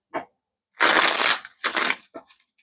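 Tarot cards shuffled in three separate bursts: a short riffle, then two longer, crisp papery shuffles, close and fairly loud, with a faint flick at the end.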